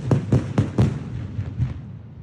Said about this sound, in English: we know that Drake put off this crazy explosion